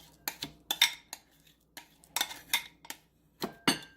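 Sharp clinks of eggs and utensils against a kitchen dish come in quick irregular bursts, close and fairly quiet, with silence between taps.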